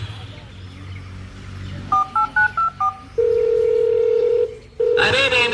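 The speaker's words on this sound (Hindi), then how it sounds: "नहीं उठाएगा आपका बेटा फोन।" A telephone is dialed with a quick run of keypad tones, followed by a long steady ring tone that pauses and starts again without being answered.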